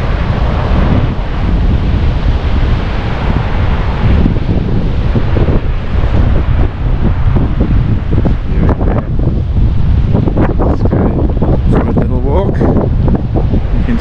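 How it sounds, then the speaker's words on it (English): Strong winter wind blows at a beach at Eden, loud buffeting roaring across the microphone with distant surf underneath, and a voice speaks faintly partway through. "It's a bit blowy today though, as you would expect."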